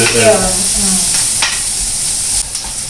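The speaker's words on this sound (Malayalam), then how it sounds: "ബട്ടറിൽ നമ്മൾ പെട്ടെന്ന് ഉള്ളി ഇങ്ങനെ ബ്രൗൺ കരിഞ്ഞ പോലെയല്ലേ?" Onions sizzle and fry in butter in a pan for Kanthari creamy chicken, a steady close crackle with a few stirring scrapes and no talk.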